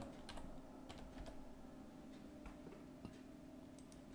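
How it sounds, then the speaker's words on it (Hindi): Quiet keystrokes tap on a computer keyboard in short irregular bursts over a low steady background hum. "ऊर्जा ग्लोबल को एक बार यहां पर टाइप करके देख लेते हैं"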